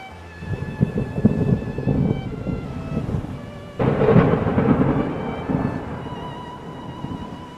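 A thunderstorm sound effect plays behind Thai narration about a violent storm at sea: rumbling thunder with a loud crack partway through, over a steady wash of rain and wind.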